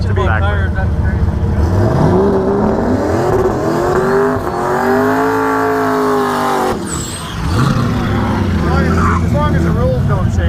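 A nitrous-fed Chevy drag car at a no-prep race revs loudly and close by, its engine climbing and falling in pitch through repeated surges, with people talking throughout.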